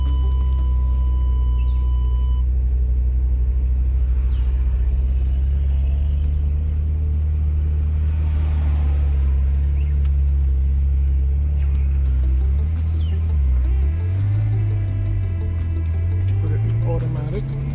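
An automatic car pulls away after the gas is pressed: a steady low engine hum runs throughout, then a rising tone near the end as it speeds up, with a person talking over it.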